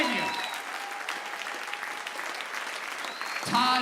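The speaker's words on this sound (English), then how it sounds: "A round of applause for Muggsy." Audience applause at an evening event, steady and dense for several seconds, briefly dipping before swelling again near the end, with a few voices and whistles mixed in.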